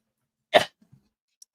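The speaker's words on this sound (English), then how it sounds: "I got a cough again." A single sharp cough bursts out close to the microphone, followed by a couple of faint throat sounds and small clicks in an otherwise quiet room.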